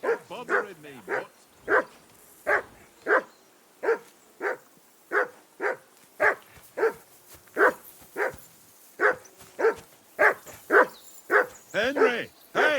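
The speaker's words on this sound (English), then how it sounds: "Call off that mutt of yours!" A dog in the medieval open-world game Kingdom Come: Deliverance 2 barks in a long run of evenly spaced, fairly close woofs, nearly twenty of them, with a whine or brief voice near the start and end.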